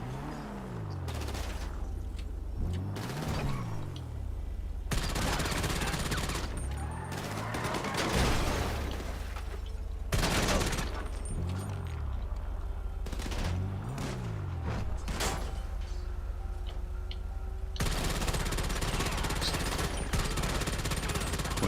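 Gunfire in GTA 5 Online, during a VIP contract mission, crackles in repeated loud bursts and long stretches of rapid fire, with booming impacts and mechanical clatter throughout.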